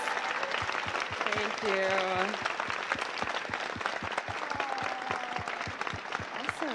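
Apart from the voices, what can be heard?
audience applause for the Ahsoka actors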